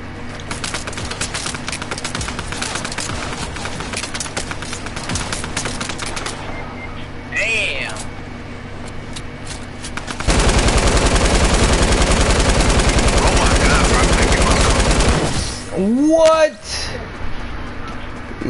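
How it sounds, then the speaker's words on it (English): Rapid automatic gunfire in Fortnite rattles in dense bursts, a long loud volley in the middle, while players talk excitedly over the shooting. "He was shooting me with the same fucking gun, bro"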